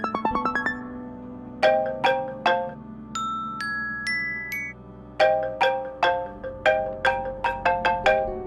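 An iPhone plays ringtone previews: a short run of chiming notes, a pause, a brief high tone pattern, then a brighter, repeating bell-like melody with clear, evenly spaced strikes.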